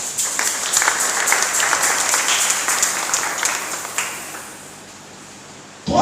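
A church congregation applauding, steady dense clapping for several seconds that gradually thins and softens near the end.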